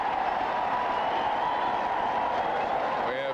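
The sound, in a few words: stadium crowd reacting to PA announcement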